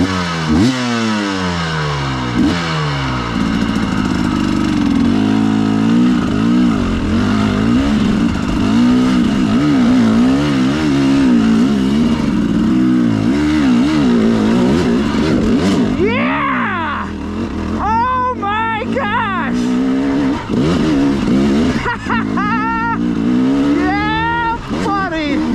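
A KTM 300XC-W carbureted two-stroke dirt bike fitted with an RK Tek head climbs a rocky trail, its engine loud and close throughout, revving, bogging and surging hard up a ledge in second gear, with a rider's voice over parts of it.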